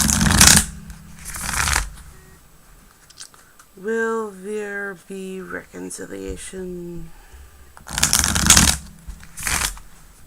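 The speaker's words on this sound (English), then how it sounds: "Ooh, good shuffles." Tarot cards are shuffled in two crisp bursts, one at the start and one near the end, with a person speaking between them.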